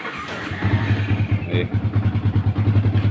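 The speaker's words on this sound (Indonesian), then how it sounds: "starter menyala, ya. Starter menyala. Mesin masih lumayan halus, ya." A 2011 Yamaha Vixion motorcycle engine catches on the starter and settles into an even, fairly smooth idle, a close, steady low-pitched thrumming pulse.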